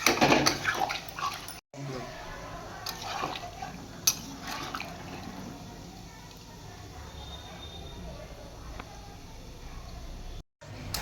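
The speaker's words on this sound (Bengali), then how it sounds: "এবার আমি এর মধ্যে জল দিয়ে দিচ্ছি।" Water is poured into a pot of shrimp and ash gourd curry cooking in oil, giving a steady splashing, filling rush that runs for several seconds and fades, with brief gaps.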